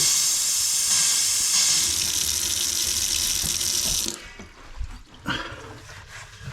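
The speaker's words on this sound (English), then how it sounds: "So we'll put a bit of water through." A tap runs steadily with a loud, hissing rush of water for several seconds after an undersink water heater replacement, then cuts off, leaving quieter clanks and splashes.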